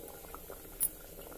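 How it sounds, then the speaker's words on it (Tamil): A green gram masala curry with coconut simmers in a covered pot, bubbling steadily and softly at close range with a faint lid rattle. "மூடி வச்சுருங்க, நல்லா கொதிக்கட்டும் குழம்பு"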